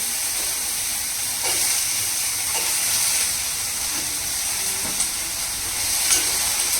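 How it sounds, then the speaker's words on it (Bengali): Bitter gourd and potato frying in a hot kadai in a home kitchen give off a steady, even hiss of sizzling oil with a few faint clinks, and no one speaks. "আর এখন ভাজবো উচ্ছে আলু ভাজা"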